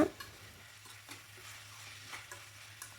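Chicken and jackfruit seeds get stirred in a pan for a drumstick chicken curry, with a soft steady sizzle and a few faint scraping strokes of a spoon. The sound is quiet and continuous, and nobody speaks.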